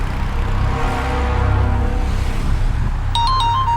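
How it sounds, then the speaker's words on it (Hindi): Loud, rumbling background noise fills the scene, then an electronic phone ringtone starts up briefly near the end. "अरे फोन आ रहा है"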